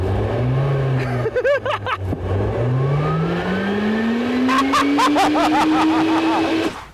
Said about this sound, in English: I'm revving it with the throttle pedal.